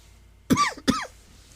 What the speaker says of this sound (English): I'm coughing in the mic